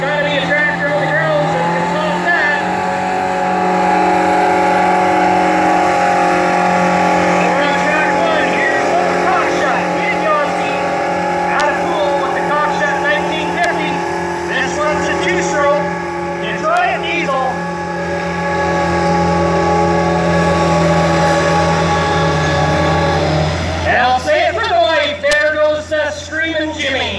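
A loud, droning tractor engine roars steadily at full load during a tractor pull, rising and falling slightly in pitch, with a shift in tone near the end; voices blend in.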